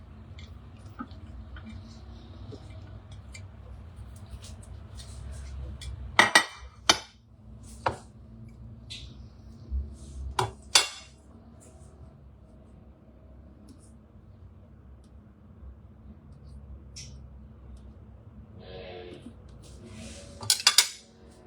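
Tempeh stirred into vegan fried rice in a pan, a handful of metallic scrapes and clinks of a utensil against the pan spaced over a quiet low hum, with louder clacks near the start and end.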